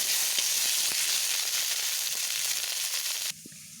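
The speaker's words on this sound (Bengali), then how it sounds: "এবার টমেটোগুলোকেও আমি একটু ভালোভাবে ভেজে নেব" Tomatoes frying with onions in a pan, a loud, dense close sizzle that holds steady and then drops off sharply near the end.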